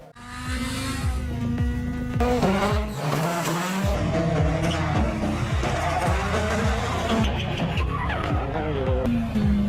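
Classic rally cars in WRC10 sweep past with revving engines rising and falling through gear changes, tire squeal and skidding on loose surfaces, loud and close, with bursts of acceleration and no talking.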